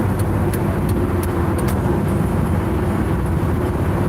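Steady, loud road roar from inside a moving car on a busy highway during a holiday drive, with other cars rushing past close by and a constant low engine and tyre rumble throughout.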